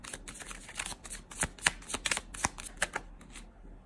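Tarot cards are shuffled and drawn by hand. Quick papery riffles and crisp card slaps sound close up and alone, in an irregular rhythm.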